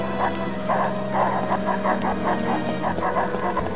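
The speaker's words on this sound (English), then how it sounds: "Yeah, I see that dog." A pack of dogs in the Fragile Dreams video game barks and yips in a repeated, fairly regular rhythm over a low steady background drone.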